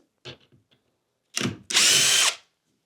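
A power drill unscrews screws from a king bed frame during disassembly, a few light clicks and a short burst, then a loud, close whir lasting about half a second.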